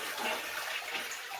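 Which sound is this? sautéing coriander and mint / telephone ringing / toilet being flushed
toilet being flushed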